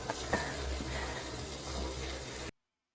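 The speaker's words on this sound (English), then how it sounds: "Oh my God, the water just turned on." A tap in a house turns on and water runs in a steady hiss, moderately close, for a couple of seconds before it cuts off abruptly.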